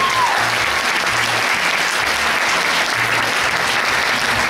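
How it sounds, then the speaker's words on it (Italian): A crowd applauds at a tribute event honoring a man, dense continuous clapping held loud and even from start to finish, with a low hum beneath. "Come si sente l'applauso per il signor Di Stefano?"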